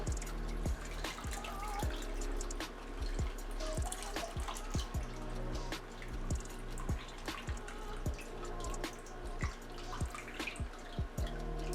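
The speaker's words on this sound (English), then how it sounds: "You're going to pour it off until all the liquid comes out and the berry pods are left in." Cooked cranberries have their juice poured off, a close trickle broken into many quick, distinct drips and splashes falling in an irregular but continuous patter, with no voices.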